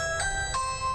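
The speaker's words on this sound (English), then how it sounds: "if you have a door and a bell, you've probably heard it ring by someone trying to sell something" A two-tone electronic doorbell chime rings once inside a house, two bright bell-like notes sounding close and clear with a lingering tail.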